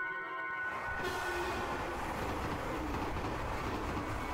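A cursed train in a video game rolls past close by, a steady rumbling clatter of wagons and wheels that fills the whole stretch, with a brief tonal hum at the start.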